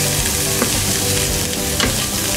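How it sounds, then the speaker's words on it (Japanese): Onions frying in butter for a loco moco bowl, a loud, dense sizzle close up, with a couple of brief stirring clicks over the constant crackle and no voices. "適量のバターで玉ねぎを炒めていきます。"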